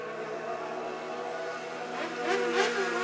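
Stock cars racing at Worthington Speedway, a steady blended engine drone from the field with a louder car passing near the end, continuous and fairly distant.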